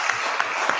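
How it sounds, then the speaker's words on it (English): Applause from a crowd, a steady wash of clapping with no talk over it. "Let's give our student region minister another round of applause."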